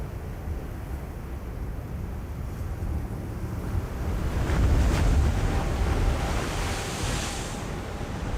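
Big ocean waves at Nazaré roar as a broad, continuous rush, swelling to a heavier crash midway and then easing, with wind buffeting the microphone throughout.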